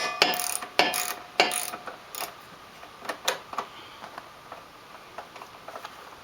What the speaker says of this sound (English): First bolt to remove is right here. It's 8mm.